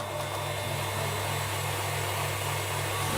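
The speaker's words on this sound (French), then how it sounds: "Et on va battre le mélange." Electric mixer whirring through cake batter for a toffee cake with date paste, a constant steady motor hum with airy whine, unbroken and moderately loud for the whole span.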